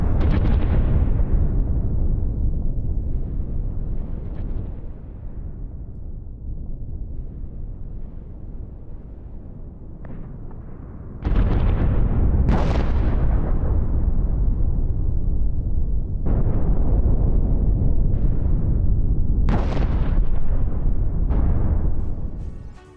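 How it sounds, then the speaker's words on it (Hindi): Israeli air strikes hit Sanaa airport in a run of heavy explosions: deep rumbling blasts with sudden sharp booms landing every few seconds, loud and continuous, with no voices. "देखिए तस्वीरें हम आपको दिखा रहे हैं कि इजराइल ने बड़ी एयर स्ट्राइक्स की सना एयरपोर्ट पर।"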